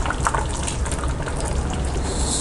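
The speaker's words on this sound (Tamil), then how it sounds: "தண்ணி ஊற்றிக்கலாம்." Water poured into a pot of mutton curry, a steady splashing gush with some brighter trickling bursts, close and continuous throughout.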